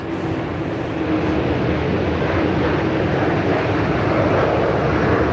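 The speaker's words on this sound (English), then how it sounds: "Let this plane go by." An airplane passing overhead, a steady broad roar that holds and swells slightly over several seconds, with no voices.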